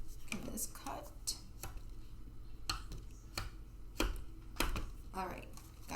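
Scissors cut through packaging at close range in a run of sharp, irregular snips and clicks, with soft rustling between cuts and quiet muttered speech in the background.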